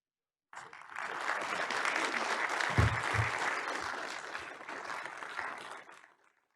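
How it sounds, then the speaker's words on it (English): Applause from the audience at a tribal national council quarterly session, many hands clapping in a sustained wash that swells and then fades out, with a couple of low thumps partway through. "let's give Principal Chief David Hill another round of applause"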